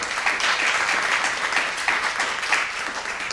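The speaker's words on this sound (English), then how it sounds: "Give them a round of applause, please." A conference audience at an education summit claps for a panel, brisk and fairly loud, with a steady crackle of many hands and a few rhythmic swells across three seconds.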